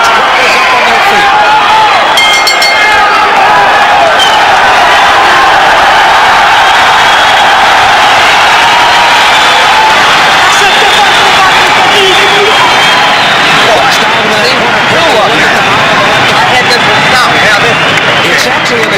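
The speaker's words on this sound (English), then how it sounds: "The French crowd is up on their feet" French boxing crowd on its feet near the end of a round, a loud continuous roar of cheering and crowd noise with a commentator talking over it throughout.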